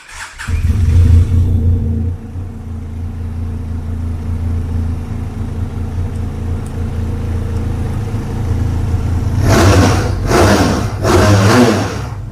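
A loaded motorbike with an aftermarket exhaust starts with a loud burst, then idles in a steady deep rumble before two sharp, powerful revs near the end.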